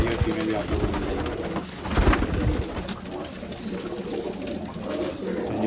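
Female Bajrai pigeon cooing, a close, continuous run of low rolling coos over steady background hum and rustle, with a person talking nearby.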